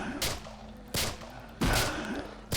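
Pistol shots from a Roblox zombie game, fired at a zombie boss: three sharp, loud cracks spaced roughly evenly over a couple of seconds, each with a brief ringing tail, over a steady low game background.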